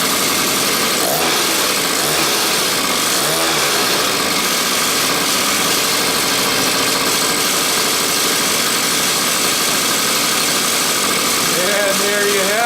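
Small mini chopper motorcycle engine idling just after being restarted on partial choke, a steady, loud, rattly running drone throughout without a break.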